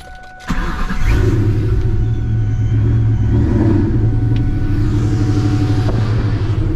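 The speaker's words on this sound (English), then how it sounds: "I'm gonna put it in reverse and back out of here" Supercharged 2004 Mustang GT engine idling and then reversing, heard up close from inside the engine bay: a steady, loud, low rumble with a faint whine above it that holds after a clunk near the start.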